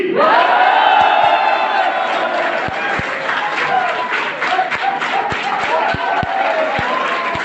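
A crowd at a celebration event shouts together on a count, a loud sustained roar of many voices that carries on with cheering and scattered sharp claps.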